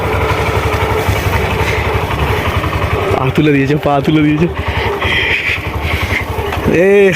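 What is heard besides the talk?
motorcycle engine during a first ride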